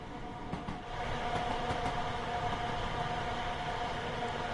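A Class 313 electric train running in Train Sim World 5, a steady broad rumble and hiss of the moving train that holds constant throughout with no voices.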